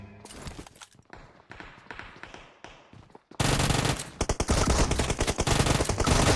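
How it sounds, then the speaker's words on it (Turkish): Rapid automatic gunfire bursts from a video game firefight, sparse and moderate at first, then turning loud, dense and continuous in the second half. "Oğlum kim benim Beyza'mı vurdu lan kaşmer"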